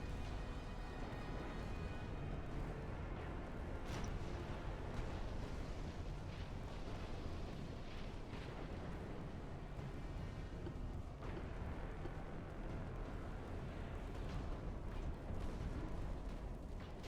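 Naval gunfire from warships in the Ultimate Admiral Dreadnoughts naval battle game: a dense, continuous rumble of booming shots and blasts runs steadily throughout, with a few sharper reports standing out, and no talking.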